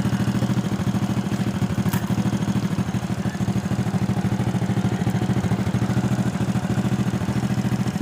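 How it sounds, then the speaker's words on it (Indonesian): A Honda Supra motorcycle engine idling steadily after an ignition repair, close and even, with a rapid regular mechanical clatter and a low thrum throughout, no voices. "motornya kembali bunyi dan normal ya teman-teman"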